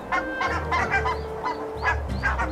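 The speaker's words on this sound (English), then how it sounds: "Barnacle geese, another Arctic cliff nester." Barnacle geese honk repeatedly in short, nasal calls, several birds overlapping in an irregular chorus, fairly close and clear.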